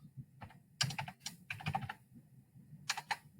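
Keys on a calculator are pressed in quick, light taps, several short clicks in irregular bursts, close and faint over a low background hum.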